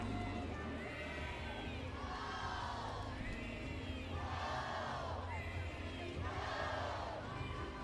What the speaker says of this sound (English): gets a standing ovation from the crowd up the first base line